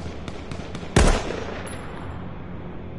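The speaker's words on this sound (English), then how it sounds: "He's getting shot at." A single sharp gunshot cracks out in the video game H1Z1, loud and close, with a short ringing tail, over a low background hum and a few faint earlier pops.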